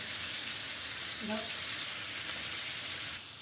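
Water is poured into a pan of frying hilsa fish, a steady loud sizzle with a brief gurgling pour partway through.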